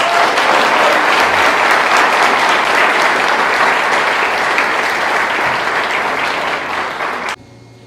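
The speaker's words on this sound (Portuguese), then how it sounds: "Mais um aplauso ao Senhor" A church congregation applauds in steady, loud, dense clapping that fills nearly eight seconds before cutting off abruptly near the end, with no talking over it.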